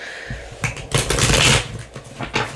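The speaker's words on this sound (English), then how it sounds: "I'm going to give this a quick shuffle" A deck of oracle cards is shuffled by hand in one quick burst, a dense fluttering riffle that swells in the middle and trails off into a few lighter card flicks, close and fairly loud.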